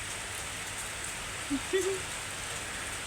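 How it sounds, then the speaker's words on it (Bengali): Steady soft rain falling outdoors, a faint even wash of drops with a couple of brief small knocks partway through. "বৃষ্টি আসতেছে"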